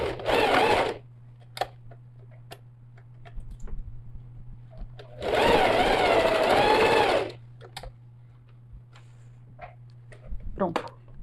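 Sewing machine stitching the second side of a backpack panel, running in two bursts of steady whirring, the longer one in the middle, with quiet pauses and small handling clicks between.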